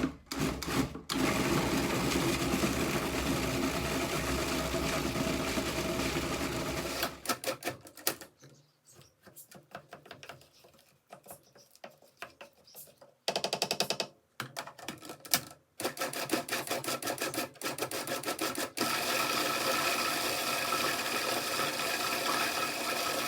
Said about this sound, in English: and we blend away